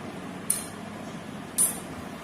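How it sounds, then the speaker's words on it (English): Two sharp metallic clinks from a metal object struck with a hammer during a classroom science demonstration, each a brief bright ring, spaced about a second apart over quiet room background. "metals are sonorous, or they produce sound when hit with the hammer or with some other element."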